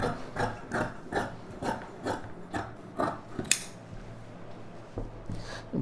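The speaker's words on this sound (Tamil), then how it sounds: "இது வந்து இந்த ஷேப் அளவு அப்படியே நீட்டாக கட் பண்ணிக்கலாம்." Scissors cutting chudidhar lining fabric around a collar neck shape, a steady series of close, crisp snips in an even rhythm with brief pauses between them.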